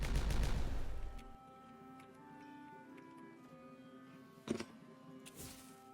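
Detonations in Timberborn go off: a loud blast rumbles at the start and fades, then two sharp, quieter bangs follow later over a faint background tone.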